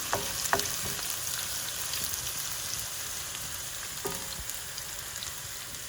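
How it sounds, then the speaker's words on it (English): Fennel for risotto sizzles softly in oil in a pan as a steady hiss, with a few sharp stirring scrapes near the start and another partway through, heard close and alone. "We're going to throw in our fennel. We're going to stir that around a little bit."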